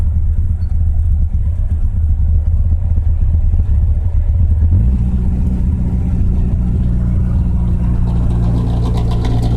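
A small Saab Sonett with a roughly 60-horsepower engine pulls in fourth gear, a loud, steady, low drone heard from inside the car that deepens and strengthens partway through as the engine works harder.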